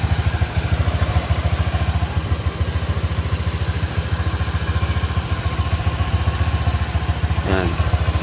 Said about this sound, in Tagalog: So, pakirinig ko sa inyo yung aking panggilid makina.